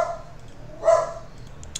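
A dog barks once in a single short, fairly loud bark partway through, with a faint yip near the end in an otherwise quiet room.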